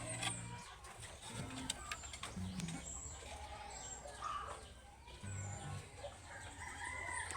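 Chickens cluck and a rooster crows in an outdoor yard, with other birds chirping in the background; no one speaks.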